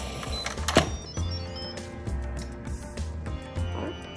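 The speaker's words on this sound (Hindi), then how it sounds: "लिड रख देते हैं" An Instant Pot lid being set down in a home kitchen while turkey chili cooks: a single sharp metallic clack stands out early, followed by fainter clicks and handling noise, with no one talking.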